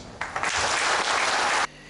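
Members of a party congress, the 10th congress of the PDG, break into a short, loud burst of applause that starts abruptly and stops just as suddenly.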